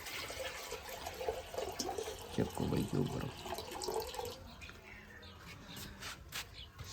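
Water is poured into a drinking bowl for pet pigeons, a close splashing trickle with a louder gush midway, while someone talks over it.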